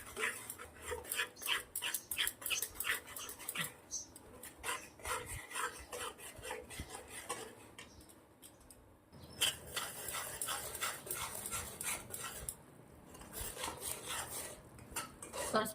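Coarse flour roasting in ghee is stirred with a spoon, giving continuous scraping and clinking strokes against the pan in a steady, busy rhythm, close and fairly loud with no talking.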